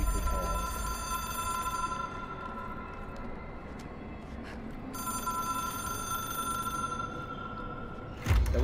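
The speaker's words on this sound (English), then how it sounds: "It is a phone." An old hotline telephone rings in the video game Control, a steady metallic bell tone heard in two bursts with a short gap between them, over a low ambient hum and no voices.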